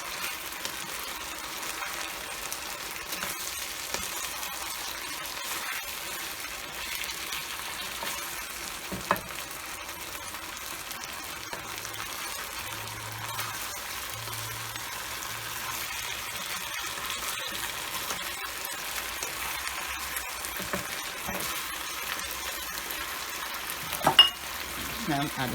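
Broccoli and onion fry in a pan for Jamaican-style chicken chop suey, a soft, steady sizzle with faint stirring and occasional clinks, fairly quiet throughout.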